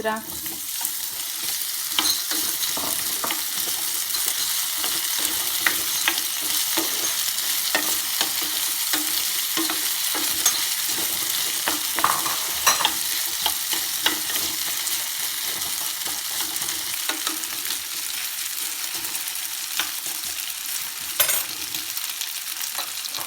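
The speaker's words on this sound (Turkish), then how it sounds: "kartofla soğanla beraber güzel bir şekilde kızarır" Diced potatoes and onions sizzle and crackle steadily in a hot pan for the whole stretch, close up, with occasional stirring scrapes and no talking.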